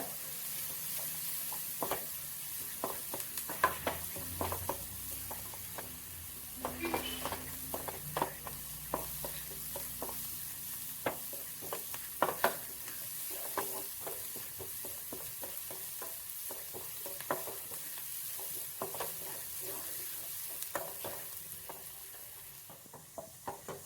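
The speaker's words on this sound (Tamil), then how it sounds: "ஆனியன் நல்லா வதங்கியாச்சு" Finely chopped onions sautéing in a pan, a soft low sizzle with frequent light spatula scrapes and taps over a long stretch, fairly quiet and with no speech.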